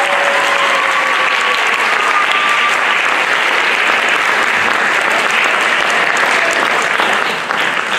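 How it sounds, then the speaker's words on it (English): A concert audience claps loudly and continuously at a spring choir concert, a dense, even wash of applause with faint whistles or voices mixed in, tapering slightly at the very end. "let's give another round of applause to Ben,"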